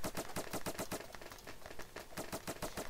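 Rapid bursts of foam-gun fire in the Roblox game Foam Frenzy, a fast repeating rattle of sharp shots with a brief lull mid-way before the volley resumes, loud and close with no talking.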